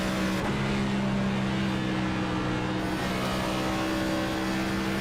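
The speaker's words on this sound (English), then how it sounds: "Right here when the RPMs drop, he'll downshift here." Race car engine in a racing video game at Indianapolis Motor Speedway, droning steadily and loud with a sustained tonal whine and a brief shift in pitch near the start as revs drop, no voices.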